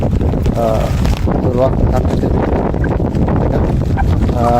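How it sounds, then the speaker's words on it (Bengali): Gusting wind roars over a swollen monsoon river with waves and rain, the heavy broadband rush loud and steady throughout while someone talks over it intermittently. "প্রচুর পানি আর ঢেউ স্রোত বাতাস বৃষ্টি আছে কারণ হলো এটা বর্ষাকাল এখন বৃষ্টি নামতেছে"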